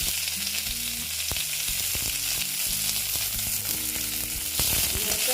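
Onions sizzle and crackle in hot oil, a loud, even frying hiss that runs the whole time with an occasional stir.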